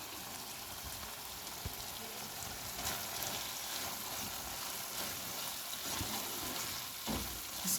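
Kachnar qeema, minced meat with bauhinia buds, green chillies and coriander, sizzles steadily in a pan while it is stirred. The frying hiss is soft and constant, with occasional scraping taps and no voices.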